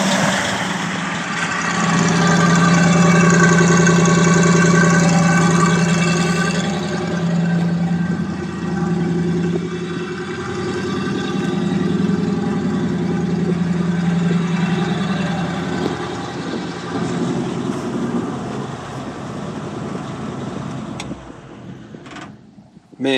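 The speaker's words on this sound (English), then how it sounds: "the engine just sounds so good." A 1949 Ford F-5 truck engine idles steadily and up close, with a deep, even running note and a faint whine from a slightly noisy pulley, ending in a few clunks.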